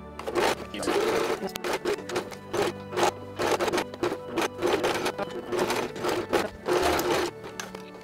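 Sewing machine stitching a stuffed teddy bear, running in repeated bursts of rapid mechanical chatter separated by short pauses, close and fairly loud.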